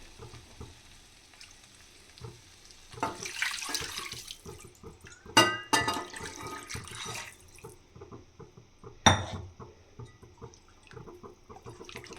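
Four glasses of water are poured over two glasses of rice in a pot for chickpea biryani, heard as a few close splashing bursts with clinks and handling noises between them in a quiet kitchen.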